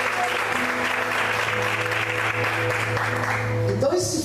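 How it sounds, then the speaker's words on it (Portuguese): Church congregation applauding during a Portuguese-language evening service, steady dense clapping with a sustained tone and voices underneath, ending abruptly near the close. "Você pode aplaudir o Senhor nessa noite."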